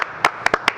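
A small group of about four people claps to welcome a guest in a mostly empty room, with a handful of sparse, uneven claps over a quiet background.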